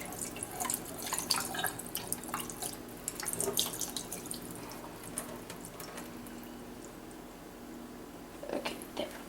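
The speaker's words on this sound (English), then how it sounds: "So now I'm going to pour all the juice out." Juice from a can of mandarin oranges pours out past a held-down lid, a close trickling and dripping splash into a sink that runs in uneven bursts for several seconds.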